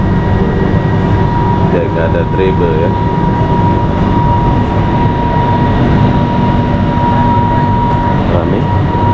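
Interior of a driverless LRT light rail train riding in Kuala Lumpur, steady loud rolling rumble with a faint whine running throughout, while people talk over it.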